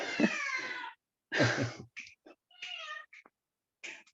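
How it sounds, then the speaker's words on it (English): A house cat meows several times indoors, close and fairly loud: a long drawn-out cry, then a second long call followed by a string of short, choppy mews separated by brief silences. "Sorry, my cat."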